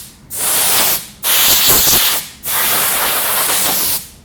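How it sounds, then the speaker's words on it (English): Compressed air blasts dust out of an HP Spectre x360 ultrabook laptop, three loud close hissing bursts of about a second each separated by short pauses. "let's start by blowing off all the excess dust"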